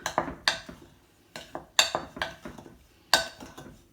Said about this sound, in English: So I'm going to stir this organic sugar into the flour